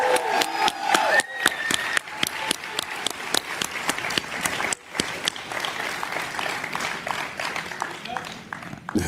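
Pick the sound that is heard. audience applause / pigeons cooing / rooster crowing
audience applause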